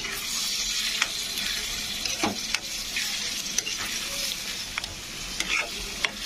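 Onions and tomatoes fry in a pan while being stirred, a steady hiss of sizzling with repeated scraping strokes of the spoon, close and continuous, with no voices.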